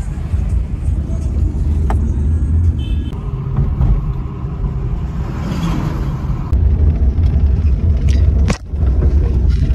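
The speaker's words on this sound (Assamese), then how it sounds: "মাৰুতি 800 ৰজাৰ গাড়ী চলাই আছোঁ" A used first-owner Maruti 800 heard from inside while driving, with a loud, steady engine and road rumble throughout and a few brief rattles and knocks.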